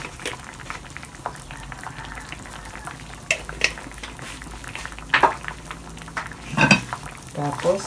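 Beef bubbles and sizzles in a cooking pan while a utensil stirs it, a steady close boiling-fry texture with scattered scrapes and clinks that grow louder toward the end, and no speech.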